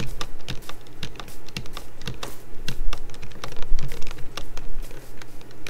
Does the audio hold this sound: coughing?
no